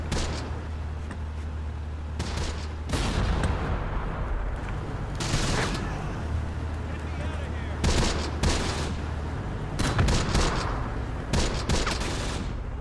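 Tank and machine gun fire in the World War II tactics game Close Combat, set in bocage hedgerows, with rapid bursts and scattered gunshots over a low rumble, repeated throughout at moderate loudness.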